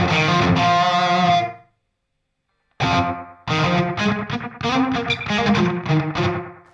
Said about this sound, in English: It's like a spring reverb.